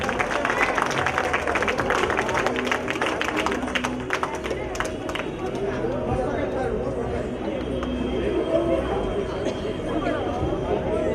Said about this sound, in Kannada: ಜೋರಾದ ಚಪ್ಪಾಳೆ, ಇನ್ನೂ ಜೋರಾಗಿ ಬರಬೇಕು.